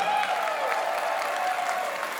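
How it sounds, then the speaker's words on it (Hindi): Audience applause at a stage show about Sardar Vallabhbhai Patel. The clapping is brief and steady, with a sustained tonal sound running over it. "तालियां बजती रहनी चाहिए"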